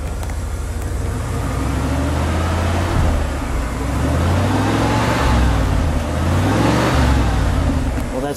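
A 1994 Bentley Continental R with its turbocharged engine revving, heard from the exhaust at the rear: a loud, steady low rumble that swells and eases through two smooth rises in pitch, close by, without talk.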